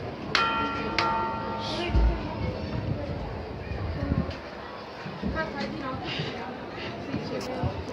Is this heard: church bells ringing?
yes